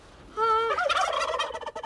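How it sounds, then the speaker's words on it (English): A royal palm turkey, a heritage breed, lets out a single loud, close gobble with a rapid rattling warble that breaks into rougher throaty burbles, heard on its own with no talk. "You're looking at a royal palm turkey, a breed that dates back to colonial America."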